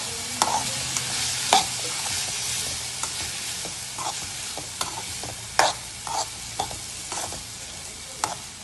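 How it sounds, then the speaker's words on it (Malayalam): Green plantain thoran stirred in a pan, with a steady sizzle under repeated sharp scrapes and clacks of a spoon against the pan, close and fairly loud, no voices. "ഇളക്കി യോജിപ്പിക്കാം."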